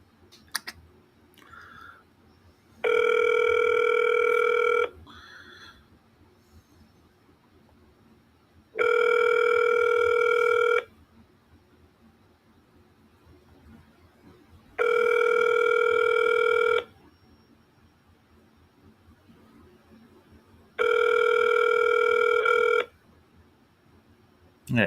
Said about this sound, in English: For sales, please press 2 for Melanie